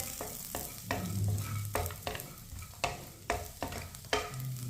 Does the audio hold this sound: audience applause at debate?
no